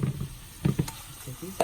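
Onions sizzle and fry on a grill in short crackling bursts, moderately loud and close, with a few brief spits and a quiet stretch between them.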